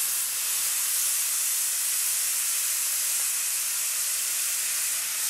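Sauce hitting a preheated frying pan for a quick sauté, a loud, steady steamy hiss that holds evenly throughout, close and without talk.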